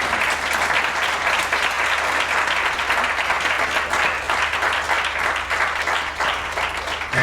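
Graduation ceremony audience applauding teachers, a dense, loud, sustained wash of clapping from a large crowd that continues steadily throughout.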